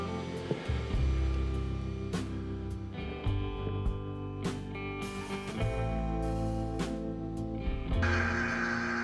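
A vacuum pump drives a lathe vacuum chuck holding a resin and maple burl vase in a woodturning shop, running as a steady motor hum throughout with scattered clicks and knocks over it.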